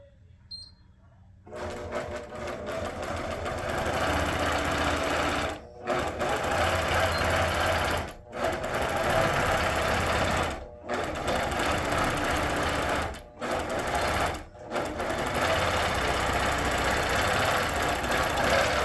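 An APQS longarm quilting machine stitches steadily after starting, a loud continuous mechanical whir broken by several brief pauses, with no talk over it.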